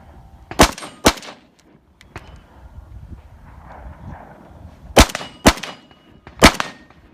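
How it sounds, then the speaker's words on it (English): Gunshots ring off a steel top plate target. Sharp cracks each end in a metallic clang, with a pair early on and a cluster of three later, loud and spaced apart over a quiet outdoor background. "You're gonna have to shoot that top plate"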